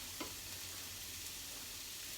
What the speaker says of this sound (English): There you go, sizzle. Get them all in, flatten them down. Let's get the sizzle on.